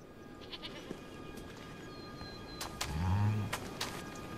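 Bighorn sheep lambs in the foggy mountains of western Montana give a short bleat around the middle, set against steady outdoor ambience with a few faint calls.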